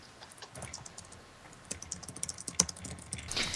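Rapid, irregular clicking of keys on a computer keyboard, close and fairly quiet, growing a little busier toward the end.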